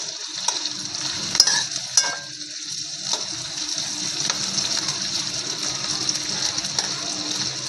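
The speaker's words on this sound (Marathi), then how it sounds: "ह्याला आपण असं फ्राय करायला ठेवून देऊ." Chopped onion fries in a pan on the stove, giving a soft, steady sizzle broken by a few sharp clinks of a utensil early on, with no talking.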